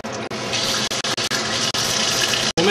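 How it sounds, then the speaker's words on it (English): A continuous gush of boiling water poured into a pot, loud and close, with a few brief breaks as the stream stops and restarts. "We're going to add 6 cups of boiling water."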